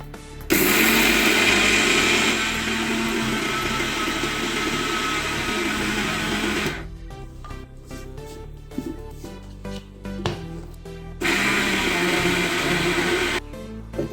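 A mixer grinder blends soaked rice with salt, cardamom and sugar water for unniappam batter, whirring loudly in a long steady burst, then a pause with clattering handling, then a second shorter grinding burst.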